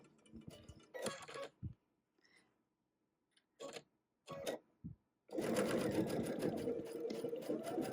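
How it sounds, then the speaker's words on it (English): A sewing machine runs a straight seam down a marked line on a Tula Pink butterfly quilt section, starting with a few short bursts and pauses, then settling into a steady, continuous whir for the last few seconds. "we're just going to sew straight down that purple line on the right hand side"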